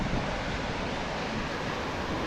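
North Sea waves surge and break against a rocky Scottish shore near high tide, a steady loud roar of surf with broad rushing wash and some wind buffeting, continuous throughout.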